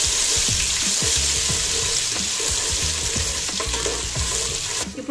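Ginger garlic paste and vegetable pieces frying in a pan for a vegetable paneer biryani, with a loud continuous sizzle and repeated scraping strokes from stirring, close up and without speech.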